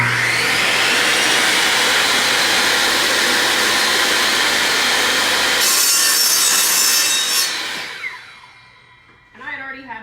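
Power saw cutting a 45-degree angle through a section of wood for a DIY succulent planter, a loud, steady close-up whine and rasp that drops away sharply near the end.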